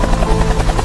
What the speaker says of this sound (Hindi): हेलीकॉप्टर की आवाज सुनकर सारे लोग ऊपर देखने लग जाते हैं।